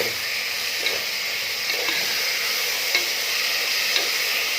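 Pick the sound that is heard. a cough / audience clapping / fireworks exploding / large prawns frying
large prawns frying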